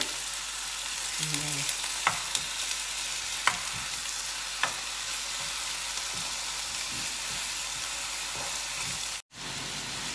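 Ox tongue frying in a pan gives a steady loud sizzle throughout, broken by a few sharp clicks and stirring taps, with a brief spoken word over it.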